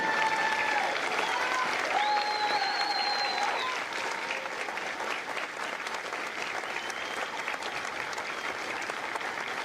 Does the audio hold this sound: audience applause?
yes